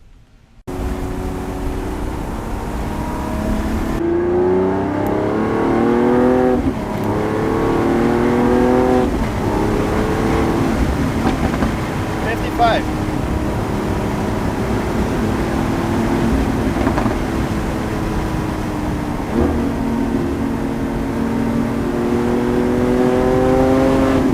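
A Lamborghini Aventador SVJ Roadster's 780-horsepower V12 revs repeatedly, rising and falling in loud bursts that rumble continuously for the whole stretch, with no talking.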